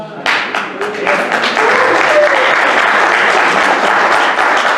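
Audience applause at a writers' talk, a sudden burst of clapping that swells into steady, loud sustained applause from a large crowd, with some faint voices mixed in.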